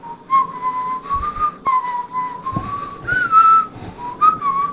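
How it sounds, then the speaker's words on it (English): Continuous melodic whistling with wavering pitch and short breaks, the tone carrying on through both in-breaths and out-breaths. "So I can inhale and exhale whistling."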